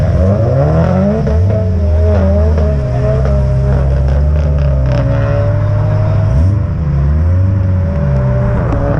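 A McLaren and a GTI race, with a BMW M2 Competition nearby, their engines roaring loudly and continuously as they accelerate through rising and falling gears, close and dominant throughout.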